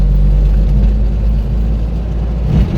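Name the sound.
Daihatsu Hijet van being driven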